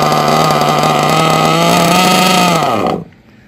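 A small nitro engine in a Losi RC buggy idles with a loud buzzing drone, pitch steady, then drops quickly as the engine cuts out, leaving near silence.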